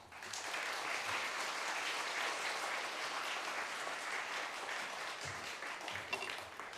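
A Korean church congregation at a Friday late-night prayer service applauds to welcome a missionary to the pulpit. The clapping is steady and moderately quiet, sustained for several seconds before tapering slightly.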